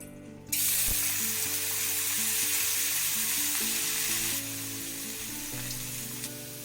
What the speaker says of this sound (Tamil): இப்போ இதை எண்ணெயில சேர்த்துக்கலாம்